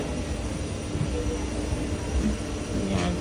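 Steady engine drone inside a Cathay Pacific airliner cabin on an Auckland to Hong Kong flight, a constant low roar with faint background sounds and no clear speech.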